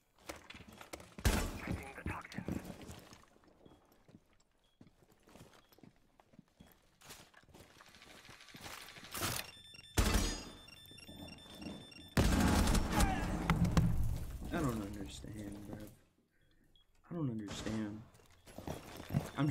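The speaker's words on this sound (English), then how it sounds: "I'm just shooting everything around his neck, and it just does half his health." Gunfire in Rainbow Six Siege: quick bursts of close shots come in uneven clusters, with gaps and game noise between them and a player's voice talking over parts of it.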